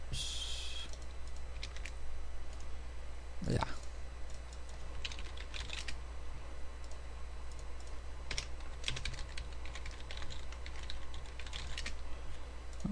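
Computer keyboard typing comes in bursts of quick, close key clicks over a steady low hum, with pauses between runs.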